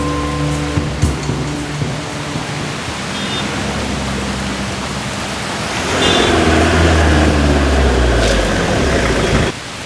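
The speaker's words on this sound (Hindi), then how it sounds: "बारिश हो रही है" Steady rain hisses at a bus stop, a dense even wash that swells louder partway through, with a low hum underneath.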